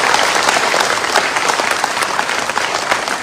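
Loud, thick applause from a large convention audience welcoming Dr. Sandeep Chaurasia, a continuous wash of many hands clapping at once, close and without speech.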